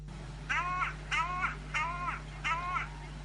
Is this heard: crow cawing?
yes